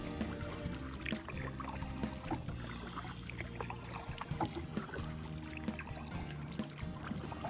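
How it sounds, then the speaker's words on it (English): A kayak being paddled along open water toward a sunset, soft rhythmic paddle strokes with dripping and trickling water over a low rumble, close and fairly quiet, no talking. "As I paddle along, it doesn't look like it's far"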